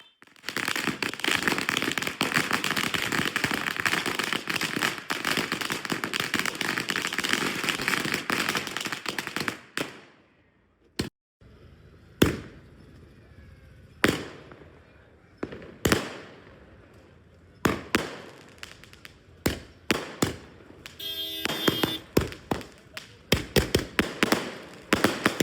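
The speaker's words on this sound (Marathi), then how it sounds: "आशा टॉकीज चौकात मोठ्या प्रमाणात फटाके वाजवून जल्लोष साजरा करण्यात आलेला आहे" Firecrackers burst in a city square crowd celebrating a cricket victory: a dense, loud barrage of crackling explosions for the first ten seconds, then sparse single sharp bangs and short crackling bursts with quiet gaps.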